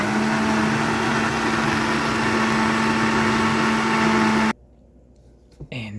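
Blender running at high speed chopping kale leaves and stalks, a loud steady whir that cuts off abruptly after about four and a half seconds, leaving near silence with faint movement.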